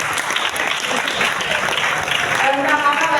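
Applause from students at an Islamic boarding school speech gathering, honouring a preacher: a dense, steady burst of many hands clapping, loud and close, with voices mixed into the crowd noise.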